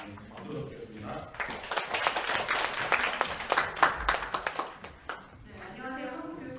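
Audience applause at an academic conference on social studies education in Korea, a dense burst of many hands clapping that swells for several seconds then fades, with a voice speaking over the tail end.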